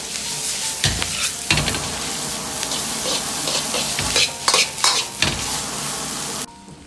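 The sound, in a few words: stir-frying drained squid strips in a wok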